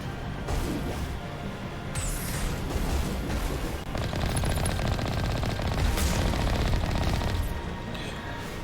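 Rapid bursts of automatic rifle fire and heavy impact booms in the sci-fi shooter Mass Effect, dense and loud, with overlapping volleys and explosions layered over a continuous game soundtrack.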